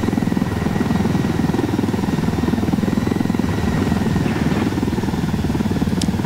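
Helicopter touching down in the video game Into the Wildlands, a steady loud rotor chop and turbine drone holding through the whole stretch with no talk over it.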